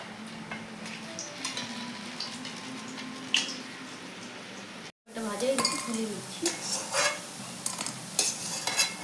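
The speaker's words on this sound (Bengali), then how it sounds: "তুলে আমি তাওয়া থেকে কড়াইতে ফার্স্টে ভাজিয়ে নিই বড়াগুলো" Lentil fritters frying in a wok, a steady low sizzle with clinks and scrapes of a utensil against the pan, broken by a brief gap before louder stirring and sizzling resumes.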